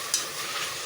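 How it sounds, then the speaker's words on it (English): Onions and tomatoes fry for chana and vegetable korma, a steady close hiss of sizzling with a brief stir near the start and no talking. "Fry all this together very well."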